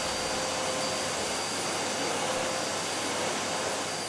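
A household vacuum cleaner runs steadily with a continuous broadband whooshing roar and a faint high whine, loud and unbroken throughout with no voices.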